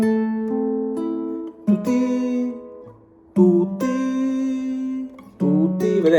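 An acoustic-style guitar plays a few chords with the bass note sounded a moment before the melody notes, giving a slightly rolled attack; clear, close and unaccompanied, with short pauses between phrases.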